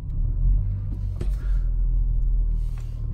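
A car engine idles as a low, steady rumble, with a brief sharper knock partway through and the drone continuing evenly to the end.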